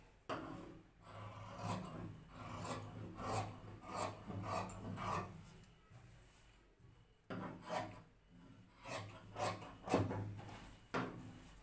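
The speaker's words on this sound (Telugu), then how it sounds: "ఇప్పుడు మనం మార్కింగ్ చేసుకున్న విధంగా కటింగ్ అయితే చేస్తాం." Scissors snipping through blouse fabric along marked cutting lines, a steady run of close, crisp rasping cuts with a short pause midway before the cutting resumes.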